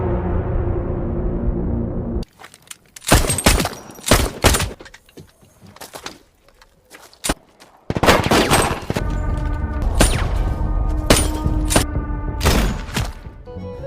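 Sharp gunshots crack loudly in a film shootout, arriving in irregular clusters of single and rapid shots, with a quieter stretch in between before a second dense burst of fire.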